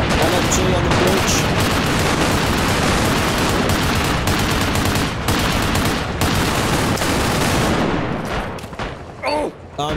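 Light machine gun fire in the Arma Reforger game on a Mogadishu map, loud and nearly continuous with dense overlapping bursts, easing off near the end. Voices can be heard faintly under it.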